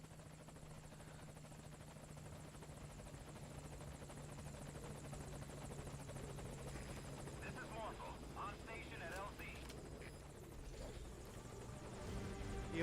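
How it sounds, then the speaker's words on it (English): A helicopter in the video game Metal Gear Solid Peace Walker comes in to land as a faint, steady rotor drone that swells slightly toward the end, under low background noise. "There you are, Pequod, my old friend. That's Arriving shortly at LZ."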